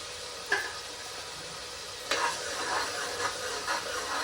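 Onions frying for a mutton curry sizzle at a low, steady level in a pan, broken by a few clear stirring scrapes, one near the start and another midway, followed by softer stirring sounds.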